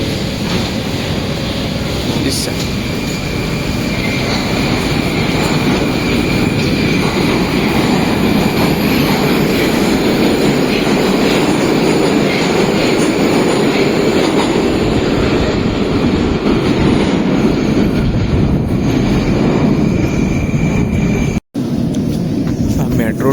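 Riding inside a metro train in Ahmedabad: a loud, steady rumble of wheels and motor, with faint voices mixed into the noise and a brief break near the end.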